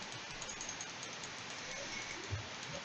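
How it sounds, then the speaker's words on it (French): Steady, faint broadband hiss of rain falling in a video game, continuous and even throughout with no speech, a single low thump near the end. "Je suis désolée pour la pluie"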